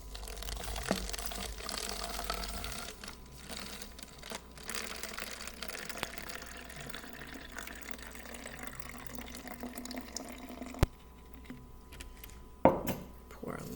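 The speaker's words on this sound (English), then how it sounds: "So I'm gonna pour the water in." Water is poured into a container, a soft continuous trickle lasting several seconds at close range, followed by a few sharp clinks of dishes or utensils near the end.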